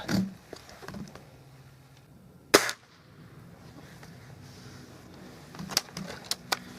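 An air rifle with a fairly long barrel fires pellets at a target, giving one sharp, loud crack near the middle and a few quicker, fainter snaps toward the end, over quiet outdoor background.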